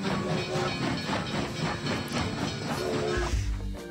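A steam train in the mobile farming game Township chugs with steady hissing puffs and rolling wagon noise, loud and continuous throughout, ending in a low rumble.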